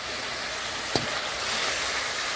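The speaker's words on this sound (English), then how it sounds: "I'm dashing a little water pan in here now." Water dashed into a hot pan of Jamaican curry pork, giving a steady broad sizzle and hiss with a brief sharp splash-like burst near the middle, close and continuous, no talk.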